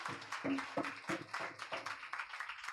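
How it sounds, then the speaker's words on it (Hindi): A church congregation claps together after a sermon, a steady rhythm of roughly a dozen soft, even claps, fairly faint and with no talking. "जोर से एक बार ताली बजाओ आज के वचनों के लिए"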